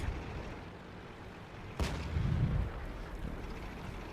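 A single sharp cannon blast from a tank in World of Tanks cracks out at moderate distance, followed by a short low rumble and a steady background hum, no voices.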